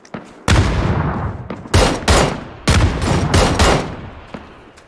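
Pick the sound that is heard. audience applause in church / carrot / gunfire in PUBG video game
gunfire in PUBG video game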